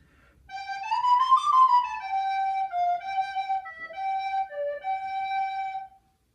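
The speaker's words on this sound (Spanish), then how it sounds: "Lo que era muy popular era la flauta de pico o flauta dulce" A recorder (flauta dulce), the simple school flute, plays a clear, breathy melody of sustained notes with a slight pitch bend, solo and close, with no voices.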